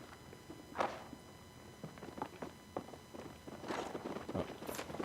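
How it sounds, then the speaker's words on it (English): Footsteps sound in the video game Apex Legends as a series of soft, irregular thuds. They sit over a steady hiss, with a louder scuffling patch near the end. "I hear the footsteps"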